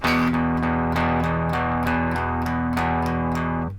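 Distorted electric guitar strumming a steady Chicago blues triplet rhythm, chords ringing continuously with evenly spaced strum attacks, loud and alone.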